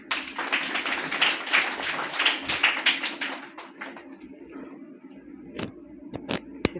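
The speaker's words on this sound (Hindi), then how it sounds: "एक बार प्रभु के वचनों के लिए हम हृदय की गहराई से धन्यवाद देंगे और ताली बजाएंगे।" A church congregation applauding, dense clapping for about three seconds that fades into scattered, fewer claps and a few final isolated hand claps.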